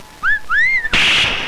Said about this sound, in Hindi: वाह, कितनी सुरीली सीटी थी।